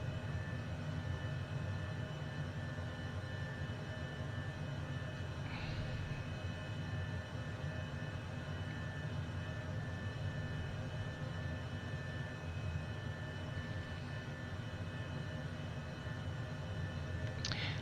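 Honda Jet engines run as a steady, broadband hum during taxi, heard from inside the cabin as a constant mid-level drone with a couple of faint brief clicks and no talking.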